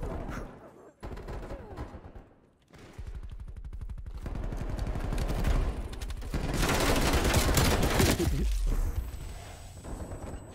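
Rapid TEC-9 hip-fire bursts in a video game, a dense loud rattle of shots that runs almost continuously, swelling in the second half with scattered echoing impacts.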